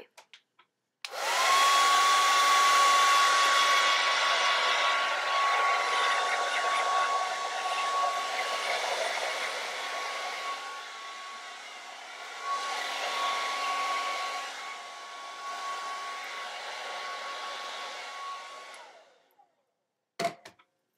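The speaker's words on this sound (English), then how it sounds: "I'll blow dry my hair upside down to near the roots to kind of give it some volume" A hair dryer running on high, blow-drying hair upside down near the roots: a steady, loud rushing whoosh with a faint motor whine that starts abruptly, holds for about eighteen seconds with slight swells as it moves, then cuts off.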